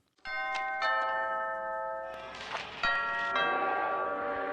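A chiming doorbell rings in a scene from National Lampoon's Christmas Vacation, a sustained melodic ding-dong heard clearly and repeated.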